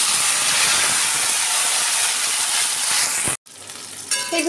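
Tomatoes dropped into hot oil with cumin seeds and curry leaves, a loud steady hiss of frying that cuts off abruptly near the end, then a softer sizzle with light clinks.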